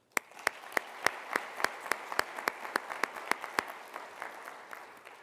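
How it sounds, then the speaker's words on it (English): Audience applause for students and finalists at an evening school business challenge event, a crisp run of evenly spaced claps that stand out over a lighter bed of clapping, gradually thinning toward the end. "can I just give another round of applause for all the students and the finalists here tonight?"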